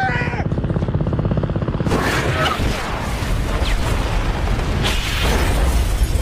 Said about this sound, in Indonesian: ledakan hebat berturut-turut terjadi